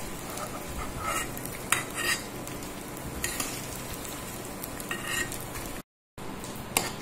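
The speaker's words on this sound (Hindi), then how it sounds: "ये गोंद हमारा फूल के रेडी हो गया है और हम इसे अब निकाल लेंगे।" Edible gum (gond) frying in hot ghee as it is lifted out of the pan, with a steady sizzle and scattered clinks of a metal spoon against the pan, close, with a brief dropout near the end and no talking.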